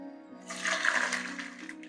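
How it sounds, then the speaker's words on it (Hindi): Ginger dropped into hot cooking oil in a kadai gives a sudden, close hiss of sizzling that swells and then settles over a steady low background hum. "ऑयल को गर्म करने के बाद इसमें डालेंगे अदरक।"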